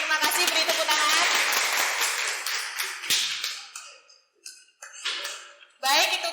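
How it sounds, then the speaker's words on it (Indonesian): A classroom of students applauds, loud dense clapping that thins out, breaks off into a few scattered claps, then returns in a brief burst near the end. "Beri tepuk tangan"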